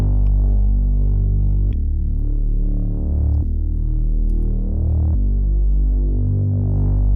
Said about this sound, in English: So I added a bass from Omnisphere